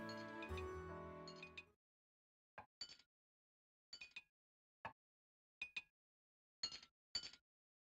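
Dishes clinking in the game Suikogaiden: after a short musical phrase fades out, small bright ceramic clinks sound alone in quick pairs and singles, about seven or eight over several seconds, crisp and light.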